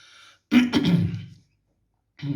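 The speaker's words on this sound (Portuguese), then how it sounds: "vamos indo um pigarrinho a mais." A single harsh throat clearing, close and fairly loud, between short moments of quiet.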